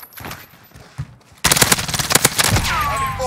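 Warzone gunfire from a MAC-10 and other weapons. A few scattered shots come first, then a loud, sustained automatic burst erupts and rattles on in quick succession.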